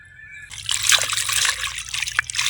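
Water splashes and trickles over a large 2 kg bat fish being lightly rinsed, a close, continuous wet sloshing with brief drips, no talk.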